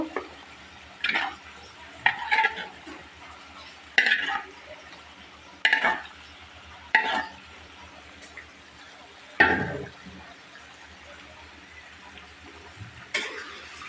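Chicken pieces fried in a pan, heard as a handful of sharp, spaced spatula knocks and stirs over a low, faint sizzle, close by with no speech.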